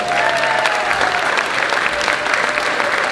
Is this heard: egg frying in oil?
no